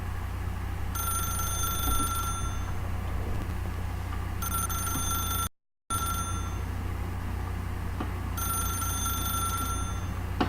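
A telephone ringing in the video game The Stanley Parable, repeated electronic ring bursts over a steady low hum, with a brief total dropout midway.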